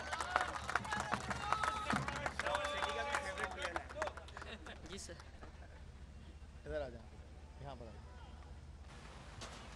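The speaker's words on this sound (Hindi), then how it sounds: "तालियां होनी चाहिए लड्डू के लिए।" Audience clapping for the man of the match at a Youm-e-Jinnah field hockey semi-final, a loose burst of applause in the first few seconds that thins out, with a crowd murmuring and people talking over it.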